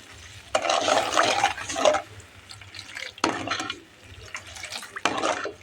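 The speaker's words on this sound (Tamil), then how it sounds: "ஜீனி போட்டு அது மூழ்கிற அளவுக்கு தண்ணியை விட்டு" Water pours over sugar in a pan to make syrup, a steady splashing rush in bursts over about five seconds, close and moderately loud with no talk.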